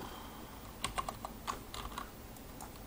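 A short burst of keyboard typing, a handful of light key taps spread over a few seconds against a faint steady background hum.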